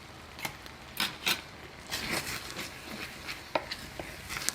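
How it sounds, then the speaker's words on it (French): A knife cutting a chili pepper on a board for rougail saucisse, sparse crisp taps and slicing clicks at uneven intervals, some in quick pairs, close and moderately loud over a quiet background with no talk. "je vais découper le piment qui va venir cuire en même temps que les oignons et l'ail"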